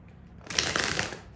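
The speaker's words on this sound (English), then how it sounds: "I'm going to get a few shuffles." A tarot card deck riffles in a single brisk shuffle lasting under a second, a close, crisp rush of flapping cards with no talking.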